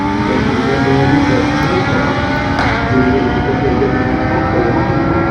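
A BMW S1000RR and a Suzuki Hayabusa launch side by side at a bike night drag race, their engines howling in a loud, continuous, high-revving roar from close by.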